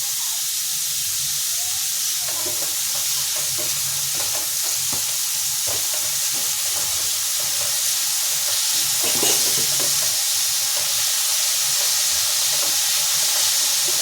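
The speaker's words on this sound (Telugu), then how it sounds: "ఇది బాగా వేగిపోవాలండి." Chicken kheema frying in a pan with salt, a loud continuous sizzle under repeated scraping stirs of a spoon, close and steady throughout.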